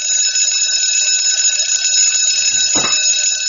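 A cartoonish alarm clock rings loud and continuous, a bright metallic bell trill sustained throughout, with a brief whooshing sweep layered in near the end.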